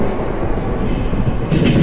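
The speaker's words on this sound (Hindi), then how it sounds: "यहाँ से आप लोगों को ट्रैक साउंड सुनाई दे ही रहा होगा अच्छे से" The Deccan Express runs over the tracks on a ghat section with a banker locomotive attached, making a steady loud low rumble and rolling roar heard from close inside the train, with no clear talk.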